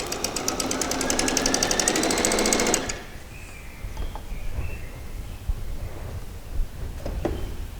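A sewing machine stitches the side seams of a pair of shorts, a dense rapid whir running steadily for about three seconds and then stopping abruptly, leaving faint handling noises and quiet room tone.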